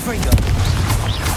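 A Confringo fire spell bursts in Hogwarts Legacy, a booming blast with low rumble and crackling layered among other combat spell effects, loud and continuous through the short moment.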